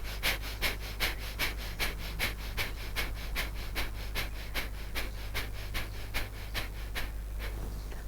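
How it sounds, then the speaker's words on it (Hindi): Forceful bhastrika pranayama breathing: about twenty hard, rapid, evenly paced breaths in and out, close and rhythmic, over a steady low hum, with no speech. "जोर जोर से सांस खींचो छोड़ो, खींचो छोड़ो। भस्त्रिका प्राणायाम प्रारंभ।"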